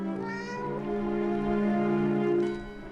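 A cat in the horror game Dark Rites of Arkham gives a drawn-out, wavering meow, close and clear, running nearly three seconds over a low background hum.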